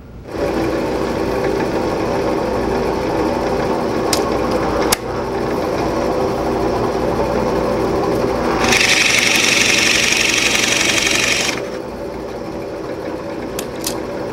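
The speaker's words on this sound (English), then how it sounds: "it comes in especially handy when you're drilling big holes like this with a Forstner" A drill press motor hums steadily, then a louder, harsher cutting whine swells for a few seconds as a large Forstner bit bores into wood before the motor settles back.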